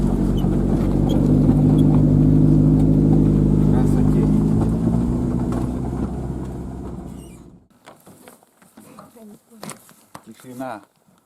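A car driving along a forest road, its steady low engine drone and road rumble filling the first seven seconds before cutting off, leaving quieter scattered knocks and movement sounds.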